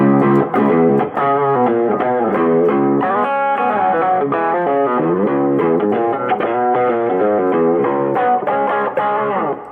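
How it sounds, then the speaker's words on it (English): Electric guitar in a country jam band rig, tuned down low and played through heavy distortion, a thick, sustained run of chords and riffs that plays steadily and alone at close range. "you can go down even lower and put some distortion"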